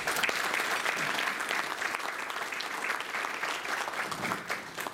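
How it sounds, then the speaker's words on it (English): A township audience at a mayor's State of the Township address applauds volunteers with steady, moderately loud clapping from many hands, continuing without a break. "let's give them a round of applause"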